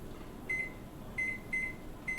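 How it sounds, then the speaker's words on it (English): Beeps from a microwave oven being set for eight minutes, four short electronic tones spaced unevenly over a low steady room hum, close and clear with no talk. "There we go, 8 minutes on the microwave."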